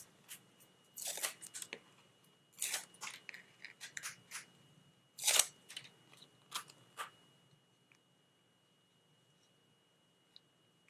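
Backing is peeled off a small paper piece for a handmade card, heard close up as a few sharp crinkling, tearing bursts and light rustles, then quiet.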